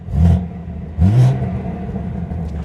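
A modified BMW G87 M2 with a remote-switched exhaust revs twice in quick, close blips, each a short throaty bark that drops back to a low idling burble.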